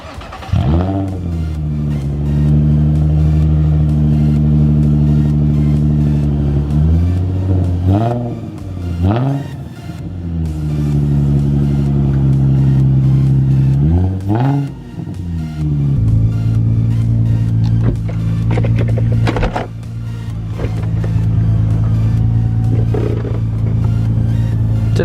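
Nissan 350Z convertible on a road trip, engine revving up through several accelerations with rising harmonic pitch sweeps between gear changes, then settling into a steady, loud drone with some clatter near the end.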